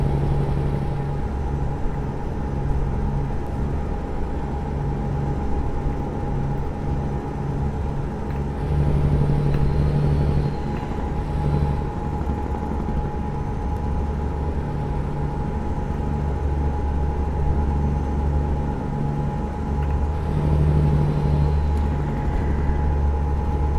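Heavy 6x4 truck in Euro Truck Simulator 2, hauling a special load, drones steadily at cruising speed with a low engine hum and rumble that swells slightly at moments, continuous and without talk.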